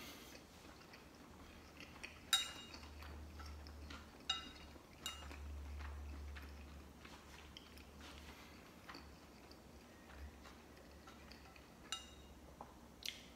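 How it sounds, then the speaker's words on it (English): Shanxi rolled noodle skins stirred in a bowl, with quiet scattered clinks of utensils against the dish and soft mixing and chewing sounds, close and faint, no talking. "I'm going to stir it first."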